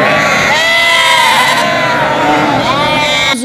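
Dozens of milk lambs and ewes bleating loudly together as the lambs are let out of the pens to find their mothers in a village flock, a dense overlapping chorus with a narrator speaking over it.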